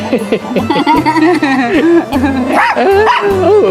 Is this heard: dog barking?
yes